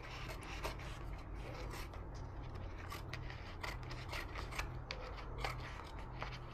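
Scissors cut through canvas in a series of quiet, crisp snips and rasping slices, close and fairly faint, with no talking.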